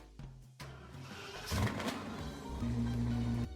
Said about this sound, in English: here's the startup for Vehicle Legends